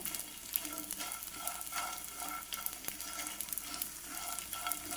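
Almond gum, the edible gum used in wheat rava laddu, fries in a pan with a quiet, steady crackling sizzle and occasional stirring scrapes, heard close up with no talking.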